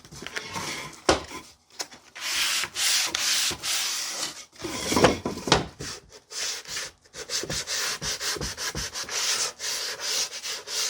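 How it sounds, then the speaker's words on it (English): Hand sanding of a wooden jewelry box with a sanding block, a close scratchy rubbing in short repeated strokes with brief pauses between passes, alone without speech. "it's really good to have a sanding block that's shaped like a diamond."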